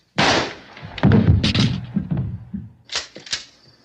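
A gunshot in a zombie horror film scene: a sharp, loud blast right at the start, followed by a cluster of rattling cracks and a few fainter pops that die away, with no talking.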